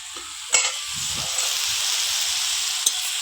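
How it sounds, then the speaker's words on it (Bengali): Greens and shrimp fry in a wok with a steady, close sizzle, broken by a couple of sharp scrapes and clanks as a spatula turns the mixture. "এবার ভালো করে উল্টে পাল্টে শাক চিংড়ি মাছ একসঙ্গে মিশিয়ে নেড়ে চেড়ে ভালো করে ভেজে নিতে হবে"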